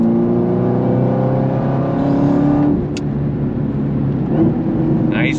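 A car accelerating hard on throttle, engine note climbing steadily up close for a few seconds before easing off, with a brief voice and some road noise after.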